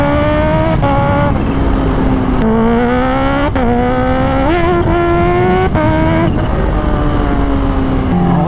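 Kawasaki H2 motorcycle with a titanium exhaust, loud and close, revving and shifting through gears in steady rising pulls with brief drops between shifts, on an open provincial road with little traffic.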